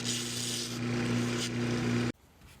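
Close, steady scratchy rubbing of sandpaper breaking the edges of a wooden piece runs for about two seconds, then stops abruptly.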